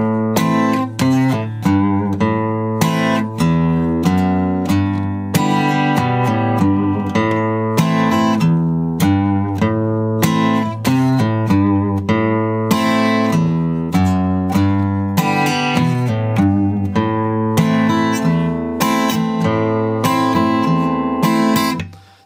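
An acoustic guitar plays the interlude of a song, plucking notes and strummed chords in a steady, close, clear rhythm with no voice over it, until the final chord fades.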